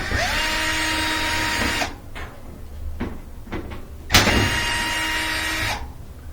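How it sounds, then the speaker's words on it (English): Two steady whirring runs from a screwdriver backing Phillips head screws out of a gas dryer panel, separated by a quieter stretch of clicks and handling. "we have to remove 2 Phillips head screws here"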